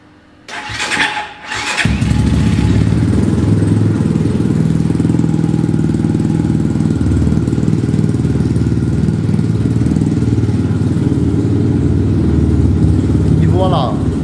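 A Chinese motorcycle engine is started with the choke on, a brief cranking burst that catches and settles into a loud, steady, close idle that runs on alone.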